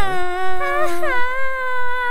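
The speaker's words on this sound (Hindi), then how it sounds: "किसी औरत की रोने की आवाज है" A woman weeping in a Hindi cartoon, a loud close wavering wail with rising and falling sobbing tones over about two seconds.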